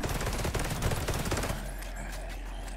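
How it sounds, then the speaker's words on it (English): Rifle firing in Evil Awaits, an old-school survival horror game: a dense burst of loud, rapid shots for about a second and a half, then fading into a lingering low rumble. "I can test the rifle at least"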